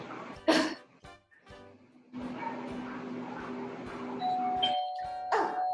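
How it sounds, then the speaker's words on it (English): A front doorbell in a house sounds a clear two-tone chime near the end, ringing out over faint room noise with scattered knocks and rustles before it. "Oh, there's the front doorbell."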